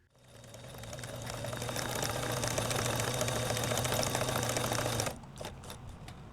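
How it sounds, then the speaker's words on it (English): A sewing machine runs in one loud, steady burst for about five seconds, stitching a webbing hem on a waxed canvas fanny pack, then stops and leaves a few faint clicks of handling. "fold the hem and sew it in place"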